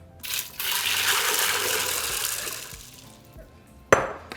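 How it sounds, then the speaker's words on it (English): Salt and water poured over beans in a pressure cooker at home, a steady rushing pour lasting a few seconds, then a sharp metallic clink as a container knocks against the pot. "Now we're just going to throw them into our pressure cooker. To that I'm going to be adding some salt and 8 cups of water."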